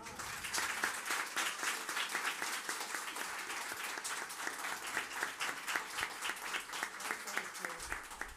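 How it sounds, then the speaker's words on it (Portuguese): An audience at a lecture gives sustained applause, dense rapid clapping from many people filling the whole stretch at an even level, with a few voices mixed in. "Palmas para o gigante."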